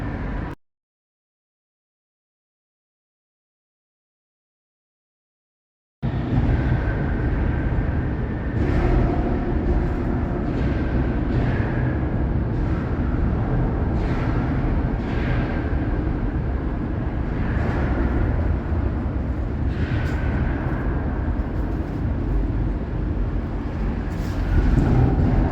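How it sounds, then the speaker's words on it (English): A low, heavy rumble of a passing train fills the recording after a brief silence, with rhythmic clanks and squeals over a steady roar. "these are the trains"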